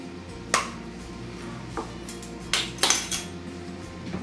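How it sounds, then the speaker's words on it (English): A spoon scrapes and clinks against a pot while minced onion is stirred into baked beans, giving a few sharp metallic taps and scrapes spaced over a few seconds over a low steady background hum. "So 1 teaspoon of onion, stir it up, Jax"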